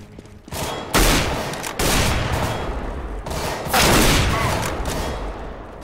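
Rapid bursts of submachine-gun fire in the CS:GO video game, loud and close, with several sustained volleys separated by brief pauses and no talk over them.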